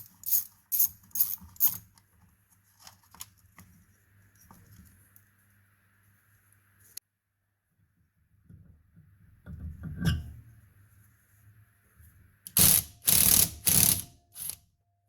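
Quick bursts of ratchet and metal clicking while the gear shift lever comes off a Honda XR200 motorcycle, short clusters at the start and a louder run near the end, with a low hum and quiet gaps between.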